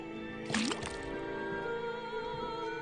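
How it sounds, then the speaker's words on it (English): In the Detective Grimoire video game, liquid splashes into a cauldron from a tapped faucet with a short burst of dripping and gurgling, then a soft trickle over a steady, droning game music bed. "First thing we do is put the sample of liquid into the cauldron, then tap the faucet."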